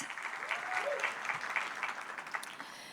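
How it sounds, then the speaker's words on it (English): Lively applause from a gala audience at an entrepreneurship prize event, a steady patter of many hands with a brief whoop or cheer rising through it, fairly close and even throughout. "An applause for our host."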